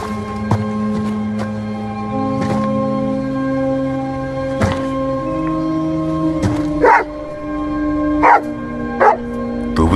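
Nervous dog in a Spanish-dubbed film barks repeatedly in short, irregular bursts over a steady, droning musical background, with no voices during the barks.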